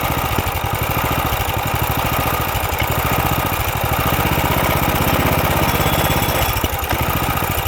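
A CT200U mini bike engine idles loud and close, its steady rapid putter slightly uneven from a hesitating carburetor that needs cleaning, running alone with no talk.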